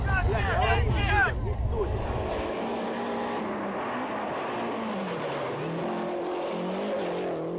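A rally car races past with its engine revving hard, loud and close at first, then fading quickly into the distance while people talk excitedly over it.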